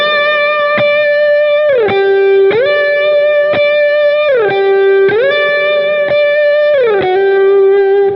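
A second electric guitar part from the live version of a song rings out in a loud, steady, distorted pattern of repeated picked notes with quick hammer-on shifts, sustained and unbroken throughout.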